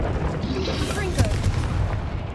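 A Confringo explosive spell fires off in Hogwarts Legacy, a sharp crackling burst that rises out of a dense, steady wash of game noise and then fades back under it.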